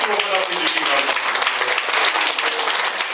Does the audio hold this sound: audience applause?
yes